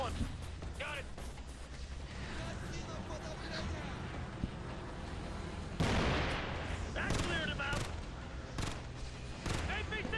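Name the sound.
gunfire in video game Ghost Recon Future Soldier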